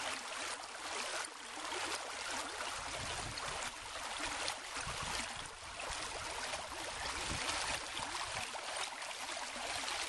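Water runs freely through a restored channel of Whychus Creek, a continuous rushing, gurgling flow that stays steady and fairly loud with no voices.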